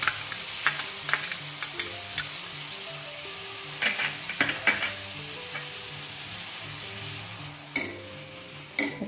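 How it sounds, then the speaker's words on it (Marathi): Grated onion frying in half a spoon of oil in a hot kadhai, a constant close sizzle punctuated by repeated scraping stir strokes, with no one speaking. "थोडस उग्र वास जाईपर्यंत परतून घ्यायचं. कांदा चांगला परतलाय."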